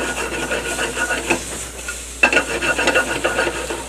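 Food lightly sauteing in a skillet, with close scraping and stirring strokes over a soft sizzle, in uneven bursts.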